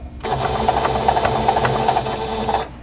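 A sewing machine runs steadily for nearly three seconds, stitching across a quilt block in one continuous, fairly loud whir with a rapid needle rhythm, alone without talk.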